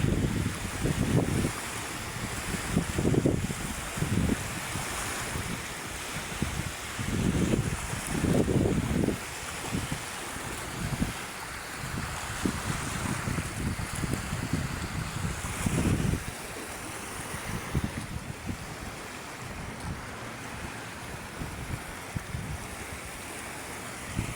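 Waves roll in along Manila Bay as the sea turns choppy, surf washing and surging in uneven swells under steady wind buffeting the microphone, with no voices.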